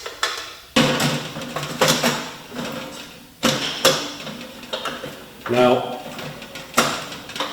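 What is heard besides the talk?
fitting a pellet stove adapter onto a tent stove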